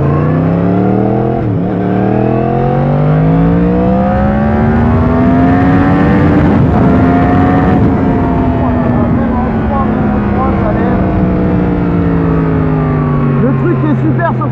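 Yamaha MT10 roadster motorcycle engine while riding, a loud steady drone that rises and falls in pitch as revs climb and ease, continuous and close throughout, with a voice speaking over it.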